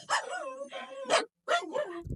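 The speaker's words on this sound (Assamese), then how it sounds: "ডেলিভাৰ কৰিলে কুকুৰ মখা কি হাল্লা কৰে ইয়াই" Dogs bark at night in several close, insistent bursts, separated by a brief silence, around a delivery rider's stop.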